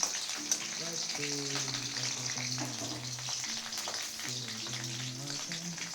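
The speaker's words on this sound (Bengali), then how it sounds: "এই রসুনটা দিয়ে দিচ্ছি, কড়াইটা অনেক আগে বসিয়েছি, গরম হয়েছে" Garlic hitting a hot wok sets off a continuous crackling sizzle, heard close, with a faint melodic tone running underneath.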